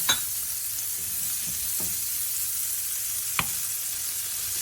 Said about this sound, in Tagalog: Una, lagyan natin ng butter. Hayaan mo nang matunaw.